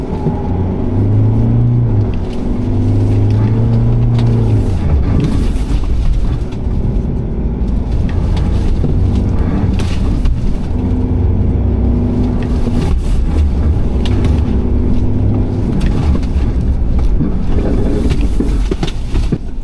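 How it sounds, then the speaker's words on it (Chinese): An Isuzu D-MAX 2024 pickup accelerating hard on loose gravel with traction control switched off, a steady loud engine rumble and rising revs running throughout, with no talk over it. "我要在这种沙石地关掉 Traction Control， 然后一脚油门下，然后再摆 Steering"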